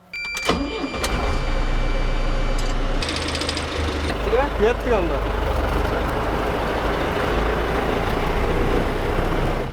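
A tractor engine drives through a muddy rice field in a Kyrgyz village, with a loud, steady, close rumble throughout and brief talk near the start.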